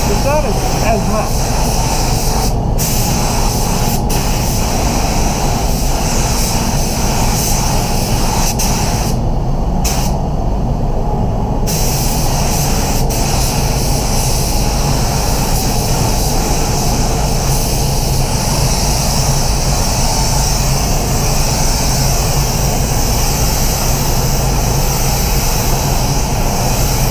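A spray gun hisses continuously while painting a Mazda MX5, a loud, steady airy rush with brief dips where the trigger eases off, and a voice speaks over it at times.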